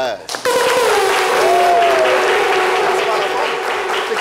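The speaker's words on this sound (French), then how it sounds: "applaudissez-les" Studio applause for guests on a French radio show, a brief steady burst of clapping that starts abruptly, with talk and a voice mixed in over it.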